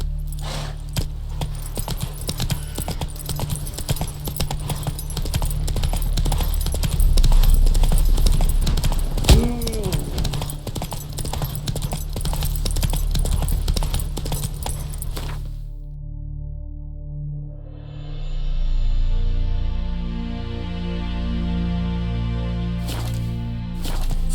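Roach, the horse in The Witcher 3, gallops in rapid, loud, close clip-clop hoofbeats over a steady rumble. The hoofbeats stop partway through, leaving quieter ambience.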